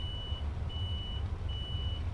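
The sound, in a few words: truck reversing beeper in Euro Truck Simulator 2 video game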